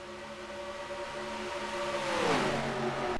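Simulated NASCAR stock car engines in a racing video game at Michigan, several cars droning together with steady layered tones, then one engine's pitch swoops downward as it backs off the throttle, loud and close.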